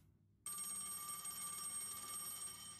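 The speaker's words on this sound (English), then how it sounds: "And the phone is already ringing." A telephone rings in Dishwashing Simulator, a video game; after a short near-silent lead-in, a loud, continuous bell-like ring starts abruptly and keeps going without a break.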